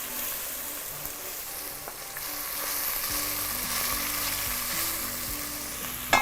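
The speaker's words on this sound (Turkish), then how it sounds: "İyice soğanlar böyle lezzetlensin. Yavaş yavaş karamelize olsun." Onions frying and caramelizing in a pan give a continuous, close sizzle that swells slightly midway, with a sharp clack of a utensil at the very end.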